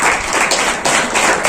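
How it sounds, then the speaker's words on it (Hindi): An audience claps together in a dense, steady patter of many hands, loud and close, with no pause over the short stretch. "खड़ा होकर खड़ा ताली बजाओ इसके लिए"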